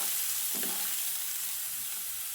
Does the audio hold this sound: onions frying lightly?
yes